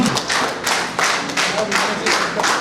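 An audience claps at a teachers' award ceremony honouring three teachers of East Siang district, the applause arriving in steady, fairly loud bursts with voices mixed in.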